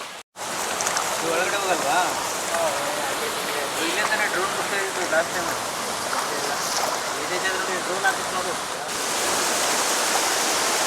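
Hogenakkal Falls roars as a steady, dense wash of falling water, loud and close, holding constant throughout with no break in the rushing noise.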